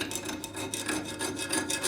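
Hand file dragged across a hardened 80CrV2 steel knife blade, producing rapid, repeated gritty scratching strokes in a quick even rhythm, close but fairly quiet.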